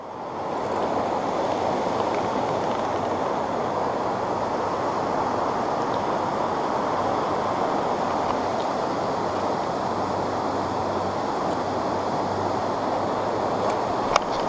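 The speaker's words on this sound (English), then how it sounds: "It's a nice, beautiful brook." A brook flows in a steady, unbroken rush close to the microphone, with no talking over it.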